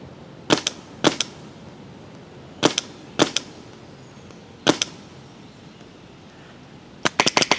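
A Planet Eclipse Emek MG100 magfed paintball marker firing First Strike rounds, sounding as sharp, close pops, mostly single or paired shots spaced a second or so apart, ending in a quick burst of four, over quiet background.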